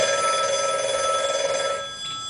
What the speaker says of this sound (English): Then that phone started to ring again. It rang and it rang and it wouldn't stop ringing.